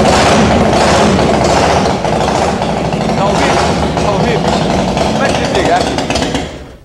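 A Harley-Davidson motorcycle engine starting in a dealership showroom and settling into a loud, rumbling idle close by, fading slightly at the end.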